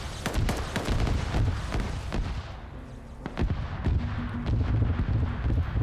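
A staff cannon fires in a Stargate video game, sending out a rapid string of sharp blasts with a short lull in the middle before the volley resumes.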